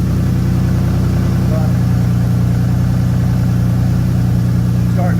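A 2007 Dodge Nitro engine with low oil pressure idles steadily and close by, its low, even rumble constant throughout with a faint chirp near the end.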